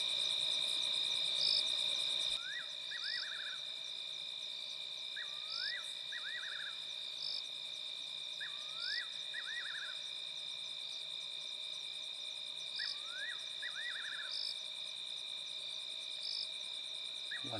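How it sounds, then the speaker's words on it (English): Grasshopper stridulation at night in the African bush: a steady, high, faint insect trill runs throughout, with short repeated chirping calls recurring every few seconds over a quiet background. "We can hear the stridulation of a grasshopper calling on the side"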